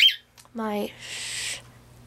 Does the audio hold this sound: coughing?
no